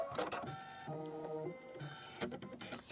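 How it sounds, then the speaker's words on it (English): An embroidery machine sewing a placement stitch for Minky fabric, giving close, quiet, rapid mechanical buzzing in short bursts with brief pauses between them. "it's going to do the placement stitch for your Minky"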